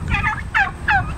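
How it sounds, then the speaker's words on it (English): Turkeys gobble close by in three quick rattling bursts. "Hi, turkeys."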